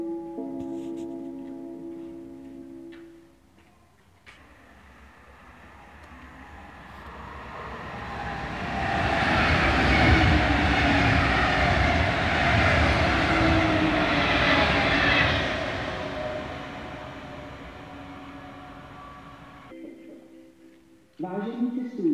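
Czech passenger train on the S1 line pulling into the platform at Pečky station, a rumbling, squealing rise of wheels and motors over about ten seconds, loud and close, then easing off, with station announcement voices at the start and end.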